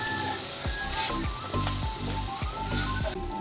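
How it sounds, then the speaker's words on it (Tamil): Tomatoes sautéing in a pan with shallots and curry leaves for a country chicken curry give a steady close sizzle, with soft scraping stirs at a regular pace throughout. "தக்காளி நல்லா மசிய வேகிற அளவுக்கு வணக்கிக்கணும்"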